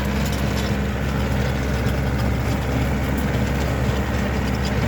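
A Yanmar RS240 tractor with a 24-horsepower engine runs steadily while pulling a rotary tiller, giving a continuous, loud, even engine drone with no breaks and no talking.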